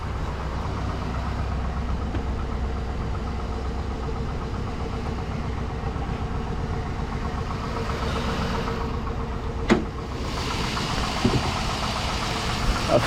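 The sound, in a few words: 5.3 LS truck engine running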